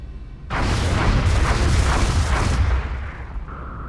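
A bombing run in the video game XCOM: Art of War, a loud sustained roar of rumbling explosions that swells suddenly, holds for about two seconds, then fades away.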